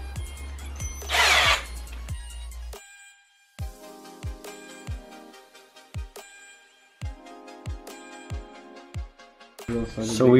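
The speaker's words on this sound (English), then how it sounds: "we went in with the smaller drill bit, and then now we're gonna go with the bigger drill bit." Power drill boring holes with a small bit into a Rocketbunny V2 widebody kit on a Scion FR-S, several short bursts of whirring separated by pauses, close and fairly loud, with some speech and handling clatter between.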